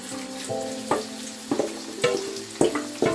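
Onions go into a pan for beef bhuna, sizzling steadily while a spoon scrapes and knocks against the pan in a roughly regular rhythm of about one stroke every half second, close and clear.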